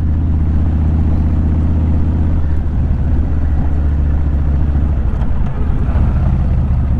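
A Kawasaki Mean Streak motorcycle rumbles on loose gravel, a deep steady engine drone under constant wind and crunching road noise, loud and close throughout.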